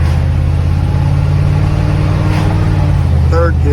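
A 1976 Chevy Square Body truck engine drones loud and steady on a test drive after a transmission replacement, with a low rumbling hum, a gear shift near the end and a voice speaking over it.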